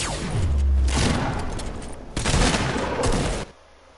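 Bursts of video game gunfire shot through a wall: two dense, loud volleys of rapid shots about a second apart, ending abruptly, with no voices.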